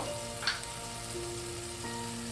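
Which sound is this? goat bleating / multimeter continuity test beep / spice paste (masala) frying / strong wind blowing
spice paste (masala) frying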